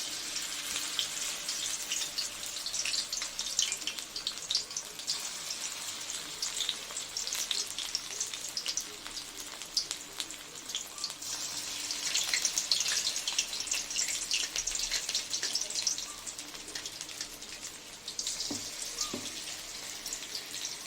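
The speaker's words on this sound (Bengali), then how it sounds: "এই যে বড়া কিছু ভাজা করছি আর কিছু ভাজা হয়ে গেছে" Bora fritters frying in hot oil over lowered heat, a steady dense crackling sizzle running throughout, briefly softer near the end, with no talking.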